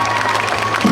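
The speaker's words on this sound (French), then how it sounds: "On peut l'applaudir quand même," Audience at a cosplay contest during the TGS Montpellier 2025 convention clapping briefly, a loud close burst of applause with a voice speaking over it.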